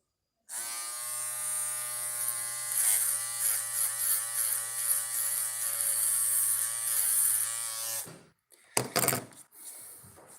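An electric shaver or hair clipper, Philips-style, buzzes close and loud for about eight seconds with a steady hum and slight pitch wavers, then switches off, followed by a few clicks and knocks from handling.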